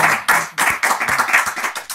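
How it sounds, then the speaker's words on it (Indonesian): Audience clapping for a Muslim preacher, a short burst of uneven close handclaps that rise, thin out and trail off after about two seconds. "Tepuk tangan buat Ustadz K."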